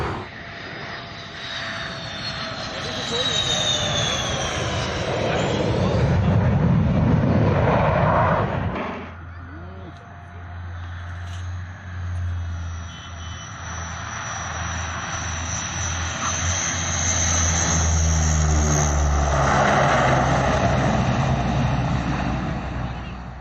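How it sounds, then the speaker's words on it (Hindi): Indian Air Force fighter jets flying low over the Purvanchal Expressway at Sultanpur during a landing rehearsal, a loud sustained engine roar that swells, dips briefly and rises again over about twenty seconds. "भारतीय वायुसेना के लड़ाकू विमानों ने भी सुल्तानपुर में पूर्वांचल एक्सप्रेसवे पर उतरने की रिहर्सल की।"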